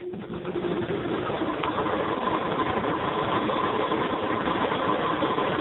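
A VesGen coil test rig powered up and running, giving a steady mechanical hum with a faint whine, close and continuous with no talk.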